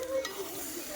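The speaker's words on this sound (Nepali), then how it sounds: "अब मजाले यसरी तेलमा भुट्ने अनि खाने" Chichar (latte) batter fries in hot oil over a fire, a brief low hiss with a faint stir near the start and no talk.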